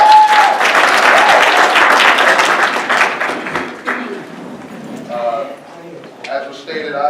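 An audience at a university networking event claps and cheers loudly for several seconds, then the applause fades into scattered claps.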